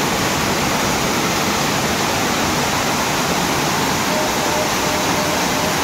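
A waterfall roars loudly and without a break, a dense broadband rush of falling water close by.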